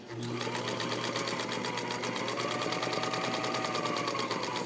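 Vintage Singer Featherweight all-metal sewing machine stitching at a long stitch length, a steady, rapid mechanical whir with fast regular clicking, close and continuous throughout.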